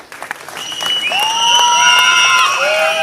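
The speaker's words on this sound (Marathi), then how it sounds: "टाळ्या वाजवा यांच्यासाठी." A crowd at a political rally bursts into loud, sustained clapping, with shrill whistle-like tones rising above it for a few seconds.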